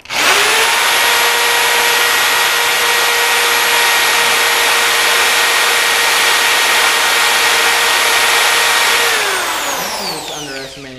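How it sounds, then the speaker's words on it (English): A power drill fitted with a dull bit whines loudly and steadily for about nine seconds during work on a Porsche 944 LS swap, then spins down and stops. "I'm just underestimating how dull your fucking drill bit is."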